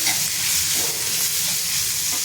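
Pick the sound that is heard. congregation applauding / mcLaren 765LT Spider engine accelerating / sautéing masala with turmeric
sautéing masala with turmeric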